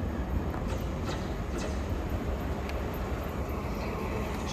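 A Class 455 electric train rolls through Raynes Park station with a steady broadband rumble, faint rail clicks running underneath the whole time. It sounds fairly close, with no talking.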